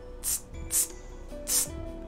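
A voice imitates a feeble sword swing with three short, breathy hissing whooshes, quiet and evenly spaced.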